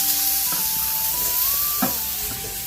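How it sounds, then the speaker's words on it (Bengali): Rice flour and grated coconut dry-roast in a pan, giving a steady, fairly loud sizzling hiss with a couple of soft scraping stirs and a faint tonal hum beneath, no voices. "এই যে এখানে চালটা আগে মানে গুঁড়োটা ভেজে নিচ্ছি।"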